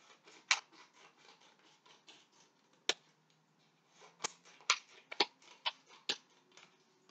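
Scissors snip paper into strips at a quiet table, a series of faint, crisp cuts with short pauses between them and a few sharper snaps, no talking.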